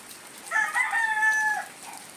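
A cockerel crows once among free-ranging native chickens on a rainy, monsoon-soaked farm, a single clear drawn-out call standing out over faint rain and background hiss.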